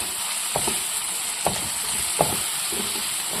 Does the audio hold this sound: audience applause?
no